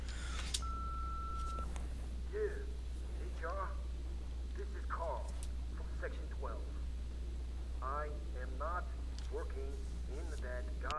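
A telephone keypad tone sounds once briefly in the Duke Nukem Forever video game, followed by a voice speaking over a low, constant background hum.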